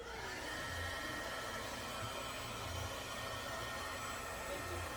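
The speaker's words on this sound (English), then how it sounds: "I think I'm actually gonna dry this really fast with my heat gun because it's still a little bit wet" Heat gun drying wet paint on a craft project: a steady, even blowing whir with a constant airy hiss, held throughout at a fairly low level with no breaks.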